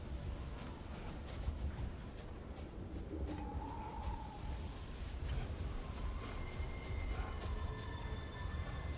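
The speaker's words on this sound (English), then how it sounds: "I hear that stupid bird again." A bird coos in a video game, soft repeated cooing calls sitting low and faint inside a steady ambient background wash, with no talking.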